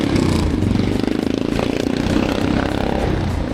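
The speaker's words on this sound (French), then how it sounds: "il y a une moto qui passe" A motorcycle passes by in a street, its engine loud and close with a steady rumbling drone and rattling clatter throughout.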